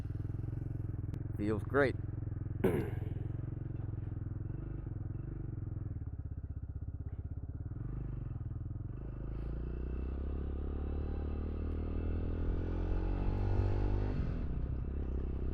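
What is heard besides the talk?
Walmart single-cylinder motorbike engine starting and running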